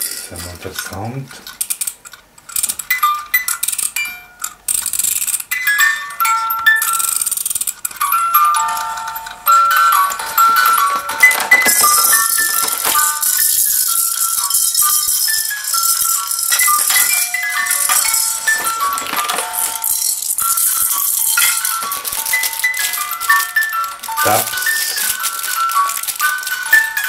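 A Sweet Cuddles musical cot mobile for a baby's crib plays a tinkling electronic melody of bright repeating notes, with a faint mechanical whir and rattle beneath it, steady and close throughout.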